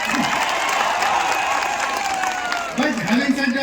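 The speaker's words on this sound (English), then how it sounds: "Just give a big round of applause for that." An audience at a Google Cloud and Malla Reddy institutions event in Maisammaguda claps steadily throughout, dense sustained applause filling the hall with a voice or two audible beneath it.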